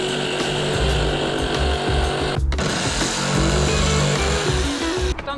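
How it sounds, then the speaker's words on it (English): A jigsaw cuts slowly through plywood for a van bulkhead, giving a loud, continuous buzzing drone that briefly stops twice, close to the listener. "Just use the jigsaw and just take it slow."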